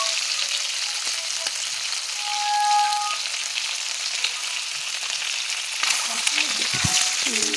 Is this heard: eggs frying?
yes